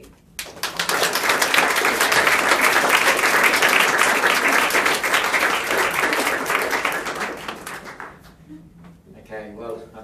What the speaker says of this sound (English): perhaps another round of applause for you